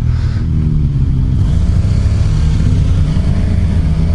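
A 2015 Suzuki GSX-R750 sport motorcycle being ridden, its engine a loud, steady close drone with a slight rise and fall in revs throughout.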